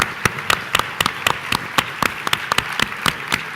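Conference audience clapping together, a brisk run of sharp, evenly spaced claps filling the room, loud and close, with no speech over it.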